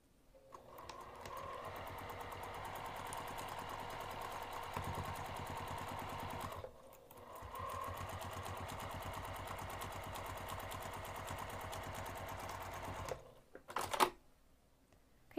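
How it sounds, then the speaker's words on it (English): A sewing machine stitching a half-inch seam allowance down fabric runs steadily and close, with a rapid even needle chatter that pauses briefly midway and then resumes before stopping. "I'm going to sew using a half inch seam allowance from the top edge down to the line that I drew."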